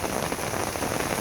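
Steady rain falls outdoors across a yard where chickens are kept, an even, close hiss of drops pattering on surfaces with no pauses.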